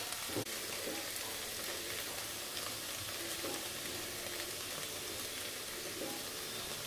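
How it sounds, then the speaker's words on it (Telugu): Okra (ladies finger) curry frying in a pan, giving a steady, even sizzle with soft crackles that runs unbroken from start to finish, with no talking. "కూర చక్కగా వేగుతుందండి"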